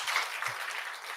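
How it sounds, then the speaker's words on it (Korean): A church congregation at a Sunday afternoon praise service applauds the worship team, a steady, dense wash of clapping that fills the whole moment at a moderate level. "오늘도 수고하셨다고 박수 한번 쳐주십시오"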